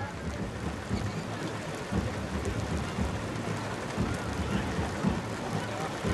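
Steady rain pours down over an outdoor football match between Brunei DPMM FC and Tanjong Pagar United, a constant dense hiss with faint crowd and commentary murmur underneath.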